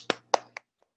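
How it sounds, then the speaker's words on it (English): A few people clapping at a school board meeting, heard as three sharp, separate claps and a faint fourth, close and brief with silence between. "you'll have to just believe us that we're all clapping for you, and Mr. Norris."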